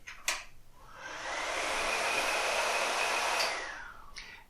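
A loud kitchen range hood fan clicks on and blows a steady, broad whooshing roar for about two and a half seconds, then cuts off with another click. No one talks over it.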